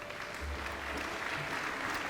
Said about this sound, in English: Let's give our winners, their parents, and their teachers a round of applause